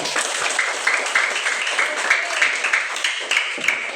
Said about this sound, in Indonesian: Kita tepuk tangan untuk Brin.